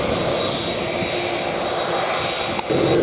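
Jet airliner engines roar loud and steady at Montego Bay airport, with a constant broadband rumble throughout and a slight shift in tone near the end.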